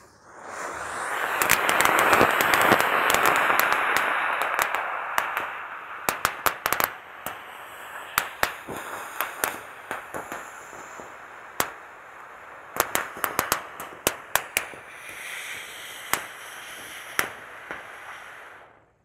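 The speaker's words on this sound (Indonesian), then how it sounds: "Lanjut di sini ada mercon air mancur super jumbo guys." A super-jumbo fountain firework roars with a loud, rushing hiss, peppered with rapid crackles and pops that keep going, then tapers off.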